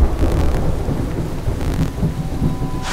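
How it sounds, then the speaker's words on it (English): Heavy rain pours down in a steady, dense roar with deep rumbling underneath, continuous and close, with no voices. "It's pouring down"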